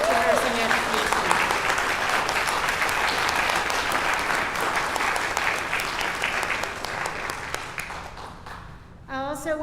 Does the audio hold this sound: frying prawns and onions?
no